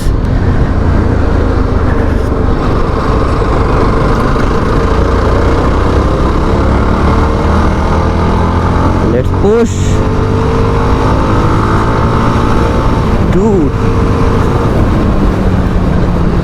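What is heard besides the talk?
Yezdi Scrambler motorcycle engine while riding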